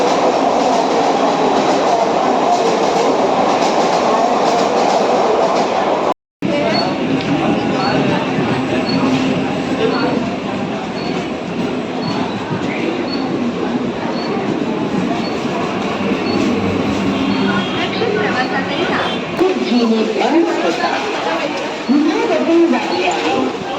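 A Mumbai local train rumbles and clatters at a busy station, with wheels rattling and squealing steadily for a long stretch, a brief cut early on and crowd voices mixed in.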